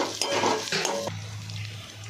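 Egg masala fries and sizzles in a pan as a utensil stirs and scrapes the metal, with a loud burst of frying in the first second before it settles into a steady low sizzle.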